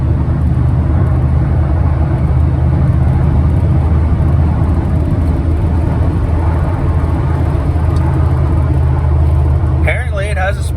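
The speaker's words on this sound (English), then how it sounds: "Apparently it has a speed limiter, because it just majorly cut out when I hit 90 or whatever that was" A $500 truck roars along at top speed, with a loud, steady engine and road rumble heard from inside the cab. The sound shifts abruptly near the end as the speed limiter cuts in.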